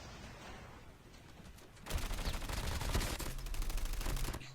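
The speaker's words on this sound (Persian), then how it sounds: "اینجا با دراپ شات، یعنی با در حالت درازگی شروع به شلیک کردن میکنه که بهش میگن دراپ شات" Call of Duty Mobile gunfire from a prone drop shot: after about two quiet seconds, loud rapid automatic shots burst out and continue densely to the end.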